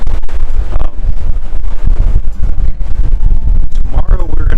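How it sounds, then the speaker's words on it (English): Strong wind gusts across the open deck of the Majestic Princess cruise ship at sea, a loud, constant buffeting rumble on the microphone with brief faint sounds in the background. "And it's windy out here."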